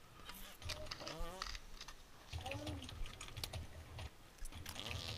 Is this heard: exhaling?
no